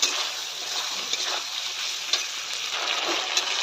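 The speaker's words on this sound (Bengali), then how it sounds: "এটাকে আমি একটু সুন্দর করে কষিয়ে নেব" Teasel gourd and potatoes with turmeric and salt being sautéed and stirred in a pan, a dense close sizzle with scraping stir strokes recurring through the frying.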